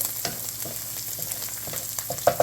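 Onions caramelize in a pan for potato and onion pierogi filling, giving an even, close crackling sizzle with small irregular pops and a few light stirring scrapes, no voices.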